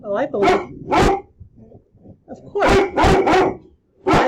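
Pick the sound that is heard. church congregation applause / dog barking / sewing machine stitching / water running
dog barking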